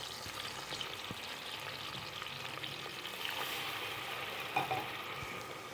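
Vegetables and ginger garlic paste fry in a pan for vegetable pulao, a soft continuous sizzle with faint stirring scrapes and a small clatter near the end, fairly quiet and steady.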